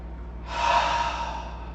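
A long open-mouthed exhale during a yoga breathing exercise, starting about halfway through as a breathy rush that swells and then slowly fades, heard up close with no talking.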